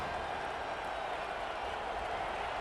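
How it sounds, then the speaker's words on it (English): A steady, broad roar of a stadium crowd in EA Sports College Football 25, Ohio State against Penn State, sustained at even loudness throughout with no distinct voices or breaks. "The roar of the crowd trying to fuel this defense to keep them pinned in their own end"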